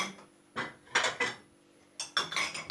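Dishes clatter and clink in separate bursts as they are handled and set down, close and crisp, with brief quiet pauses between the bursts.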